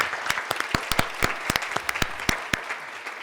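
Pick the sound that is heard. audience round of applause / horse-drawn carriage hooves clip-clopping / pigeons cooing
audience round of applause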